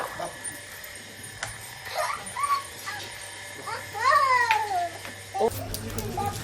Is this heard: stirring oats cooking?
no